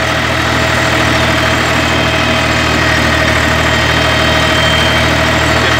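A vintage tractor drags a seed drill and cultivator combination through a field while sowing winter cereals, its engine droning loud and steady with constant low vibration and no voices.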